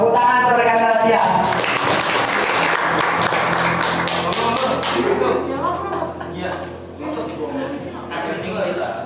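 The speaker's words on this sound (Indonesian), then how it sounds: "Tepuk tangan untuk rekan Rasias." An audience claps together in loud, dense applause at an IPNU IPPNU youth training event in Siliragung, with a voice speaking over it as the clapping gradually thins out.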